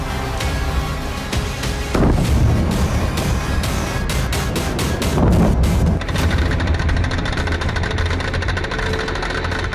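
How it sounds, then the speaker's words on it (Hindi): Anti-aircraft gun fire and explosions at an airbase near Rostov during a Ukrainian drone attack: a constant heavy rumble with booming bursts and a clustered run of rapid sharp cracks through the middle, loud and close. "इसके साथ ही एंटी एयरक्राफ्ट गन से भी भीषण फायरिंग की गई।"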